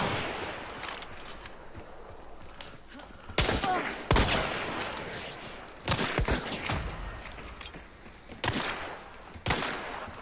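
Several sharp, loud shotgun blasts ring out in a Hunt: Showdown match, spaced a second or two apart over a low ambient bed.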